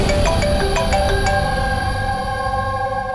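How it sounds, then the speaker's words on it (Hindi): Phone ringtone in a TV crime drama scene, a loud electronic melody of quick repeated tonal notes that ends after about a second and a half, leaving a sustained fading tone, with no voices. "सर, पंकज का फोन था"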